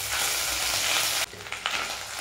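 Ginger paste frying in oil in a pan, a steady loud broadband sizzle that drops abruptly partway through, then continues at a lower level with brief stirring bursts.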